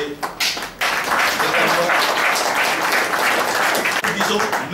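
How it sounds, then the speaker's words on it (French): An audience at a handover ceremony for computer equipment and documentation kits breaks into sustained applause after a brief pause, the clapping filling the room, with some voices mixed in. "Je nous invite à applaudir l'Union européenne"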